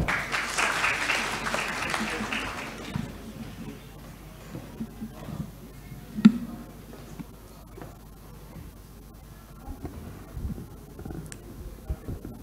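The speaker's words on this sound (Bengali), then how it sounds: "সবাই করতালি দেব।" At the Infoseccon-2024 cyber security conference in Bangladesh, an audience gives the chief guest a short burst of applause that fades after a few seconds into quiet room noise with occasional soft knocks.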